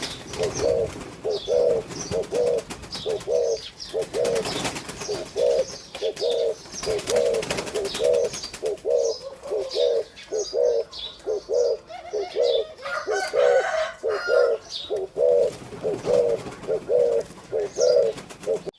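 Repeated low, throaty cooing from a male pigeon-dove hybrid, in steady rhythmic phrases over a faint background hiss, with occasional soft chirps.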